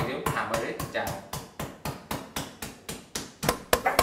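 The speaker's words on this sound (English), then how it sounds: "So with my wonderful pestle, I'm just going to hammer it down." A pestle hammers and smashes cucumber for a salad in a steady run of about fourteen sharp, close thuds over four seconds, each blow crisp and evenly spaced.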